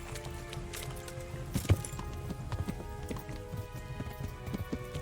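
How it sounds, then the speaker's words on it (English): A fairly fast horse gallops in Kingdom Come: Deliverance, its hooves thudding in a steady, busy clip-clop that runs the whole time under a constant bed of outdoor ambience. "I've got a horse that's fairly fast now."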